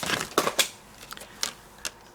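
Scissors cut a piece of paper stock for Hanukkah stamp and die crafting, giving several short, crisp snips in an uneven rhythm, close and fairly quiet, with no voices.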